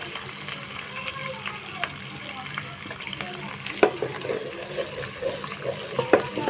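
Cumin seeds sizzling in hot oil for a potato and egg curry, a steady frying hiss with occasional stirring clinks, while someone talks over it.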